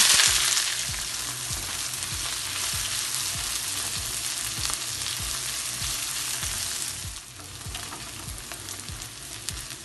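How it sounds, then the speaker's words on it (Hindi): Chopped onions and green chillies fry in about two tablespoons of oil, making a loud, continuous close sizzle with dense crackling and regular spatula scrapes. The sound eases slightly near the end, and no one speaks. "अब इसमें प्याज और मिर्चें डालेंगे।"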